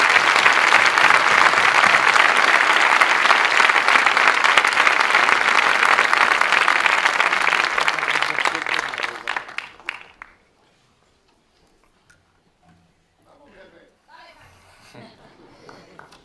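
A large audience at a Falange Española y las JONS anniversary event applauds Falange leader Manuel Andreino, a loud, dense ovation lasting about ten seconds before fading abruptly into near silence with faint stray sounds.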